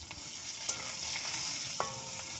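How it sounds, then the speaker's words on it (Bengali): Onions sizzle in hot oil with panch phoron, chili and cumin in a wok, a soft, steady crackle broken by a few sharper stirring scrapes, with no talking. "এবারে পেঁয়াজ দেব। পেঁয়াজটাও ভেজে নেব।"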